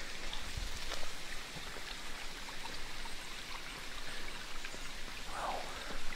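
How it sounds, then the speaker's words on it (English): A small creek flows in a steady, close babbling wash of water, continuous and fairly soft, with no talking. "A little creek."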